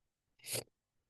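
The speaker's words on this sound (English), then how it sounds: "Sorry, I had to sneeze." A single short, sharp sneeze bursts out once, fairly faint, with silence before and after.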